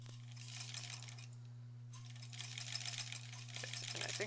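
A sewing machine stitches a quilt block, a faint steady mechanical chatter over a constant low electrical hum, alone and quiet.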